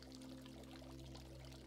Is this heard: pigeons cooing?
no